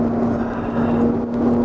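Porsche Cayenne E-Hybrid with four-wheel drive pulling away after braking hard through a corner, a steady close engine drone with a constant hum and no voices.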